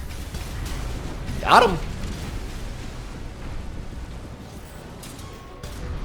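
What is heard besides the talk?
bazooka shot exploding in a video game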